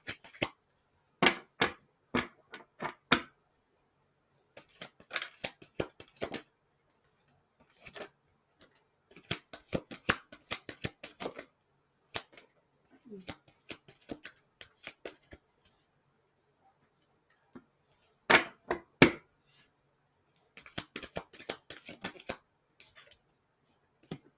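Bursts of cards riffling and shuffling, repeated in several quick rounds with short pauses between, close and crisp.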